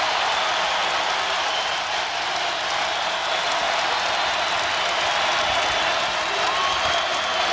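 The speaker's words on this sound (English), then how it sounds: "Crowd to its feet." A basketball arena crowd at a North Carolina versus Duke senior night game rises in dense, sustained cheering and applause, loud and continuous throughout with no distinct voice standing out.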